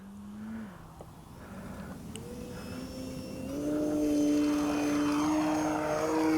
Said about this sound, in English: It's a very powerful plane.